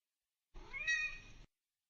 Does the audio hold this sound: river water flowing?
no